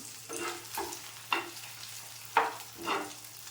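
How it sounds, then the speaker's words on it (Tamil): Spinach and egg stir-fried in a pan: soft sizzling under a few scraping spatula strokes and light clinks, spaced irregularly, close and fairly quiet, with no talking. "இப்போ வந்து இதை அப்படியே நம்ம வறுத்து விடுவோம் அப்படியே கொஞ்சம் வறுத்துடலாம்"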